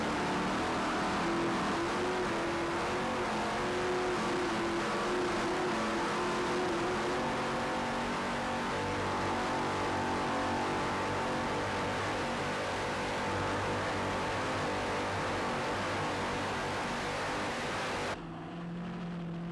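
Mercury Racing engines on a Skater racing powerboat roar steadily and loudly from onboard at speed, a dense continuous drone with shifting pitch that cuts off abruptly near the end.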